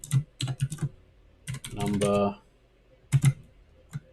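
Bursts of clacking computer keyboard keys typed while writing code, coming in short irregular clusters with pauses between them, and a brief spoken word passing through the middle.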